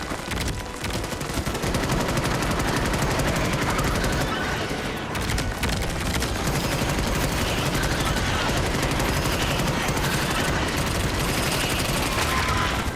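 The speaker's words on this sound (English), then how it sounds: "I like this Morita gun." A Morita gun fires in a video game, a dense continuous burst of rapid gunfire that stays loud and steady throughout.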